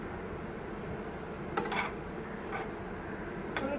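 A spoon stirs Chettinad-style chicken masala and ramen in a pot with a few sharp metallic clinks against the rim over a steady background hum.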